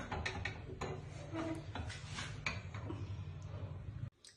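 A metal tempering pan is handled in a home kitchen while kadhi is being made, giving scattered quiet clinks and knocks of metal against metal over a low background hum that cuts off abruptly at the end.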